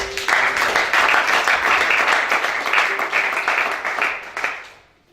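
Congregation applauding at a church service, loud sustained clapping with some voices mixed in that fades out at the end.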